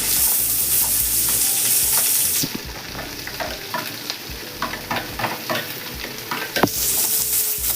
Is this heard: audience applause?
no